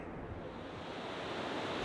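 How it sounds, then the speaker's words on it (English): Sea waves wash in a steady, broad roar near a coastal house with courtyards, a continuous hiss of surf with no distinct breaks and no voices, moderately quiet. "I think the sound of the sea is really amazing."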